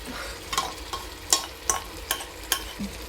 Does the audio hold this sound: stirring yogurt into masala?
yes